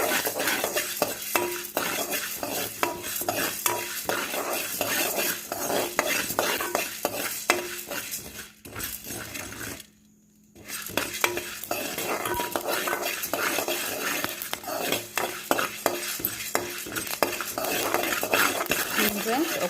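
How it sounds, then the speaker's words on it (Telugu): A ladle stirs and fries in a pan on high flame: constant sizzling with quick scraping and clattering strokes of the ladle against the pan, close and busy, with one brief pause midway. "గరిటెతో కలుపుకుంటూ ఫ్రై చేసేసుకోవాలి"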